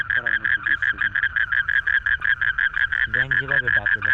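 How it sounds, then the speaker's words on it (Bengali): Frogs croak near water at night, a steady pulsing chorus of rapid, evenly spaced calls that fills the whole stretch, with a lower, louder croak rising close by toward the end. "আর ব্যাঙের ডাক শুনতে পাবো। এই যে ব্যাঙ কীভাবে ডাকে"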